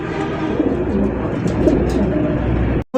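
A male fancy racer pigeon coos close by in a soft, repeated, throaty rhythm. The sound runs steadily and breaks off briefly just before the end.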